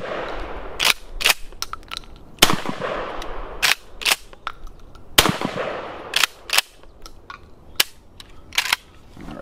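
A Springfield 67F 20 gauge pump shotgun fires on a range, giving a series of sharp, irregularly spaced bangs and smaller mechanical clacks over several seconds.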